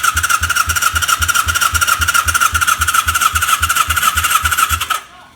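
Motorcycle engine cranked over by the starter during a compression test with a pressure gauge fitted in the spark plug hole, a loud, steady, rapid rhythmic chugging that runs for about five seconds and then cuts off abruptly.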